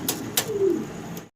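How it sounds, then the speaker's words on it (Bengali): A pair of Archangel pigeons gives a soft, close coo, alone and fairly loud, with a few sharp ticks of movement around it. "অসাধারণ সুন্দর এক জোড়া আর্চেঞ্জেল কবুতর"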